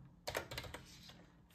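A Chromebook keyboard is typed on in a quick burst of soft clicking keystrokes, close and quiet, then a few more taps before a pause, with no voice present.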